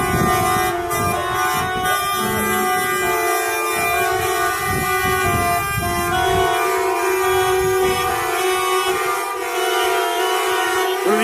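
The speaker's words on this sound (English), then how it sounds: "Just honking at the workers." Car horns honking outside a prison at the guards, layered sustained blasts and repeated toots from several vehicles blaring loudly and continuously.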